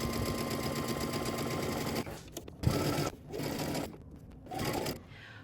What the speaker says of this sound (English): So let's head on over to the sewing machine.